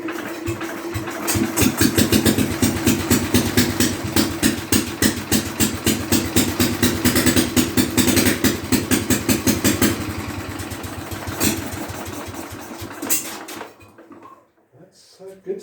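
A Briggs & Stratton 23D engine firing up and running close by, with a loud, rapid, steady chugging beat for about ten seconds that then softens and cuts out.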